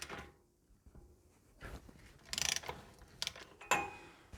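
A wheel bearing nut on a Toyota Land Cruiser swivel hub is backed off, giving faint metallic clicks and a few short ratcheting scrapes, close and quiet.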